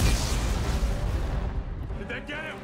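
A grenade explosion in the video game Dead Space 3 during a boss battle gives a loud, low, rumbling boom that decays over about two seconds, with a voice briefly reacting near the end.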